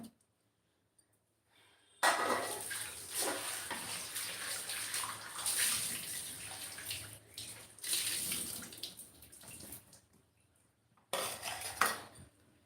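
Fenugreek and ponnaganti greens are washed in water, with splashing, running water and clattering vessel sounds in bursts, pausing briefly before another short splash.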